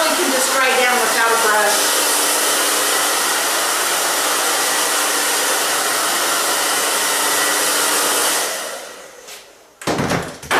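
Hair dryer blow-drying the lower section of an A-line haircut, a loud, steady whooshing roar held for about eight seconds before it switches off, followed by a few handling clatters.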